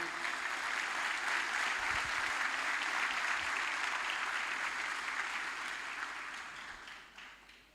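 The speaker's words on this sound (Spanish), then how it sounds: "un aplauso para ahí para Pau" Audience at a provincial political militancy gathering in Santa Cruz applauds for a council colleague; a broad, steady roar of many hands clapping fills the space, then gradually fades toward the end.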